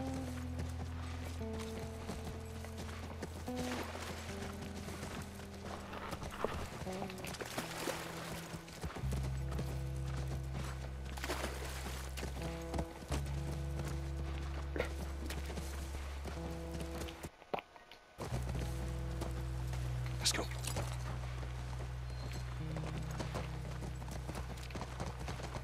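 Horse hooves in The Last of Us video game clip-clop in a steady walking-to-trotting rhythm, moderately close, over a sustained low game music drone with a brief dropout midway.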